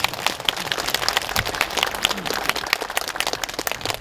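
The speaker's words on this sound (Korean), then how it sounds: "박수 한번" At the completion ceremony of a town's new administrative and cultural center, a crowd breaks into scattered, uneven applause, with distinct individual claps over about four seconds.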